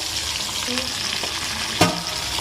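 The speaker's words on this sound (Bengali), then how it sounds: "তেলে দিলে কেমন ফাটে" Pabda fish fry in hot oil over a low flame, giving a steady close sizzle with a few sharp pops and spits.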